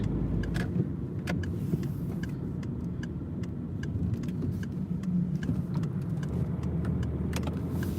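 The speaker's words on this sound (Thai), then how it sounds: "กับขับรถกลับบ้านจ้ะ" A car drives home along a road, its steady engine and tyre rumble filling the cabin continuously, with occasional small clicks and rattles inside the vehicle.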